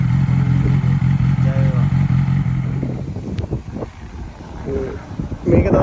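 A 2010 Yamaha R6 sport motorcycle in Japan holds a steady, close engine drone for a few seconds, then fades into irregular revving and mechanical clatter, with wind noise across the microphone.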